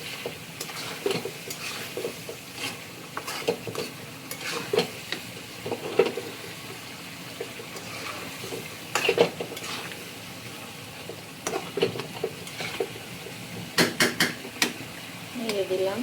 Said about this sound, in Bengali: টমেটো দিয়ে একটু নেড়ে দিব